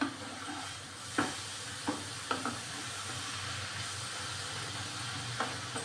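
Beet mash seasoned with salt and turmeric is stirred in a pan over a soft sizzle, with a few distinct scraping knocks of the spoon spaced through the clip.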